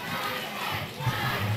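Crowd roaring at a Capital Punishment 2022 fight event, a dense, steady wall of cheering and shouting with a few louder swells near the end and no clear single voices.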